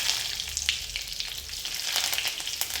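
Curry leaves crackle and sizzle in hot oil in a pan, a loud, close spitting hiss with sharp pops, continuous throughout with no talking.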